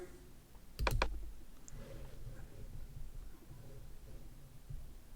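Computer mouse clicks, a quick pair of sharp close clicks near the start, then only faint room noise.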